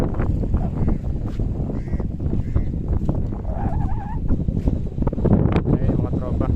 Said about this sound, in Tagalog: Ayun mga tropa, lakas ng hangin.